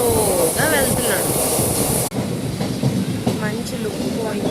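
A train rolls slowly along the rails with a loud, continuous rumble, hiss and faint squealing wheels. A brief cut comes midway, and faint voices are mixed in beneath the noise.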